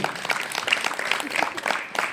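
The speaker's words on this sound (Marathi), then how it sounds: "त्यांच्यासाठी एकदा जोरदार टाळ्या झाल्या पाहिजे" Audience applause fills a school farewell function, a short burst of clapping from a crowd heard at moderate distance.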